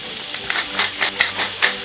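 Food is turned in a frying pan of sizzling garlic butter, a soft continuous fry with a series of light scraping, tapping utensil strokes in an irregular rhythm.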